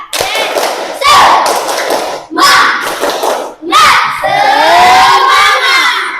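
A classroom of children shouts a rhythmic clapping chant in three loud bursts, voices strong and close, with claps mixed into the group chanting.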